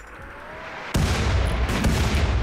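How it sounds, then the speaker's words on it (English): Incoming mortar shell impact in the colony game RimWorld: a sudden loud broadband blast after a quiet stretch, followed by a sustained rumbling roar with a couple of further cracks. "Okay, mortar coming in."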